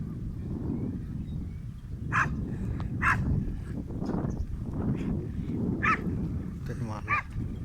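A dog outdoors on a rainy day whimpers and gives several short, high yelping barks spaced irregularly over a low, rumbling background.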